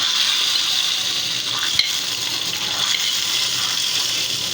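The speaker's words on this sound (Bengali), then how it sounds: "দেখেন আমার এখন হচ্ছে ডাউলের মধ্যে তেলটা বাগার দিয়ে দিলাম" Hot oil poured over lentils for tempering gives a steady, loud sizzle with a broad hiss and frying crackle that keeps on evenly, with no voices.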